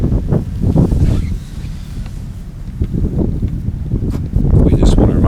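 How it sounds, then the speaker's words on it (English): Gusty wind buffets the microphone in rough, surging bursts at a women's rowing race between Princeton and Columbia, with loud low rumbling that rises and falls, and talk mixed underneath. "we're feeling gusts now"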